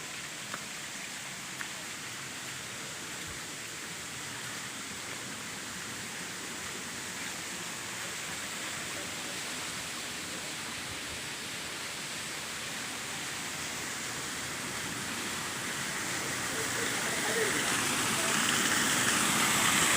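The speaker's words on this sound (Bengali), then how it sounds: "পাহাড় থেকে পানি ঝর্ণা দিয়ে গড়িয়ে পড়ছে, তার শব্দ আপনারা শুনতে পাচ্ছেন।" A hillside waterfall at Himchhari sends water tumbling down the rocks in a constant broadband rush. The wash stays steady, then swells louder toward the end.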